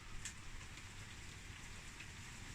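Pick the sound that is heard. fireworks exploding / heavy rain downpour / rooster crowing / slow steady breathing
heavy rain downpour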